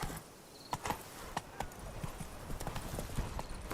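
Geralt's horse Roach in The Witcher 3: Wild Hunt, hooves clip-clopping in an uneven trot of close, distinct knocks over a gritty background, with a faint jingle of tack.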